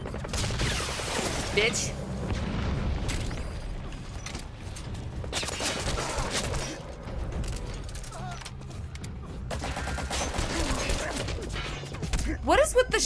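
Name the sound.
shotgun fire in a video game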